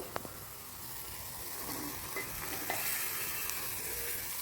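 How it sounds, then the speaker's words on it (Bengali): Eggplant and spices fry together in a pan for a village-style prawn and eggplant dish, a soft continuous sizzle with occasional light clicks of stirring, quiet and without talk. "বেগুন আর মশলাটা ভালোভাবে কষিয়ে মানে আস্তে আস্তে করে কষিয়ে যাতে মশলাগুলো বেগুনের সাথে লেগে যায়"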